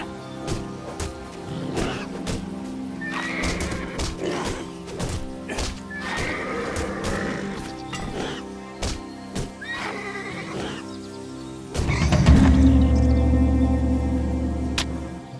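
Repeated loud horse whinnies from a video game set in a field, several neighing bursts spread across the stretch with hoof clatter and sharp game effects between them, then a heavy rumbling swell near the end.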